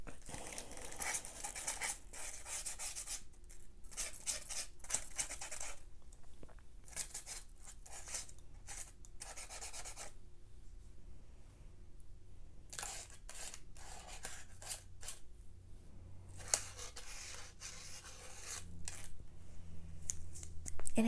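A marker scratches and squeaks across leaves in repeated short strokes, close and fairly quiet, with pauses between bursts of writing.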